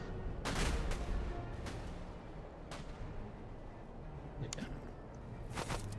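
Troops open fire in the video game Master of Command, scattered musket volleys cracking across a battlefield, a few sharp bursts over a constant rumbling background, moderately distant.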